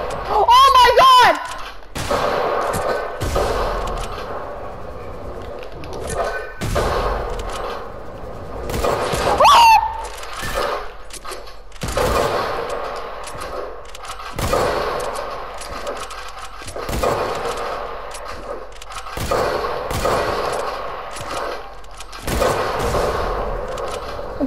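Video game gunshots during trick shots ring out as sharp, scattered bursts across the clip, some in quick clusters, mixed with excited voices talking and exclaiming.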